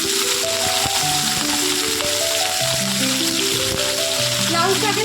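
Chopped potato, brinjal and pumpkin hiss and sizzle in hot oil in a home kitchen pan, a steady close frying noise running under a person talking.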